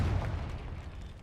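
The Confringo fire spell in Hogwarts Legacy goes off as a single short, deep, rumbling explosion that fades quickly.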